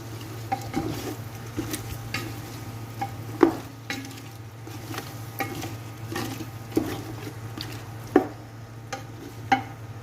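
Tomatoes are added to a sizzling pan of chicken for kabsa and stirred, with a steady low sizzle broken by repeated scraping and clinking strokes of a utensil against the pan, close and without talk.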